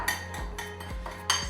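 A utensil scrapes and clinks against a bowl while stuffed mushroom filling with Parmesan and oil is mixed, a few short irregular knocks close by.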